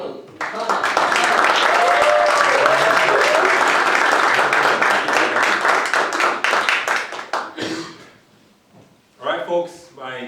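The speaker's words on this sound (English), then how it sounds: "let's give a warm round of applause to Paul Donald Nkana" An audience at a corporate storytelling workshop claps warmly for a speaker, a dense, loud burst of applause that fades out, followed by a few scattered claps and a voice beginning to speak.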